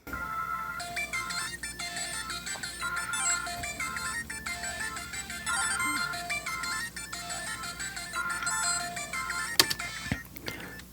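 Thin, tinny music leaks steadily from open-back headphones, with little bass and no talking.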